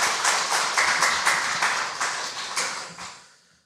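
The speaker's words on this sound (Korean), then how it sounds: "박수." A church congregation claps hands together in a steady, rhythmic beat during a Sunday worship service, with the clapping lasting a few seconds and then stopping abruptly.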